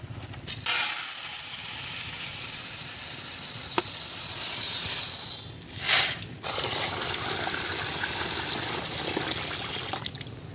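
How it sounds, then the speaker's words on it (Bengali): Three kilograms of rice being washed by hand in water in a home kitchen, a steady close trickling and swishing with light grainy rattling, broken by a couple of short louder splashes. "জলটা ততক্ষণ ফুটুক, আমি চালটা একটু ধুয়ে নেব"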